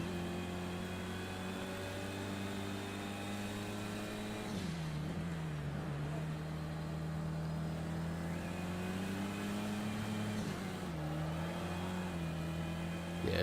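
Race car engine in the driving game Project Cars 2, a steady droning whine held at high revs that dips in pitch twice as the car shifts or brakes, then climbs back, continuous and moderately quiet.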